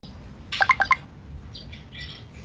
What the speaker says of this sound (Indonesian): Ada suara burung nih.